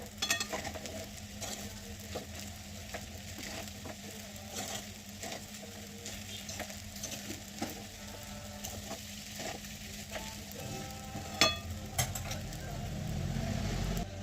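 Sabudana khichdi is mixed in a pan, giving a soft, continuous sizzle with faint, scattered scrapes and patters of stirring, and a slightly louder swell near the end.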